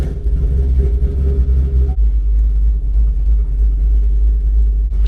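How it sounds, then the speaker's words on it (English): A loud, deep rumble from a modified car engine with no sound deadening as the car is moved, a heavy low drone that shifts pitch partway through, with no voices. "So I'm gonna move my car."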